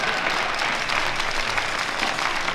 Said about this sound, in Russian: Болельщики, ваши аплодисменты, поддержка.